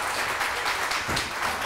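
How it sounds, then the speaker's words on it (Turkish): A television studio audience applauds to welcome guests onto the set, a steady, fairly dense patter of many hands clapping together at moderate distance, unbroken throughout. "Hadi alkışlarla halalarımızı alalım."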